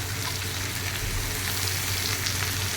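Potatoes frying in a pan with chopped carrot and a small capsicum, a continuous, even oily hiss at moderate volume with a faint low hum beneath and no voices.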